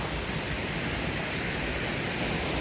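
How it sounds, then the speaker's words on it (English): A waterfall pours outdoors in nature as a continuous, dense broadband rush with no breaks, steady and fairly strong throughout. "this is where it's at? Yeah, the waterfall."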